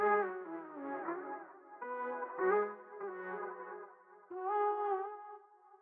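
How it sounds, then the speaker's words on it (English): Spacey, echoing vocal-like synth tones from the Arcade plugin in Logic Pro sing short sustained chords in a slow, repeating phrase, clean and alone with a soft reverb tail. "I wanted to give it like some spacey sounding vocals just to add some sort of texture and vibe to it"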